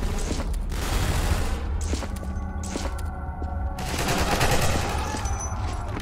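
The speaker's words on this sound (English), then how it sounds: "Oh, that's Combine shooting down there." Combine soldiers firing below in the video game Half-Life 2: Entropy Zero 2, sustained rattling bursts of gunfire mixed with thuds and game background noise, moderately loud and somewhat distant.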